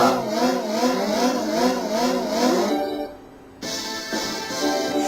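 Motorcycle engines revving in the Riding Spirits 2 racing game, with a Kawasaki among the bikes: a loud, steady wavering whine that dips briefly, then returns at full pitch.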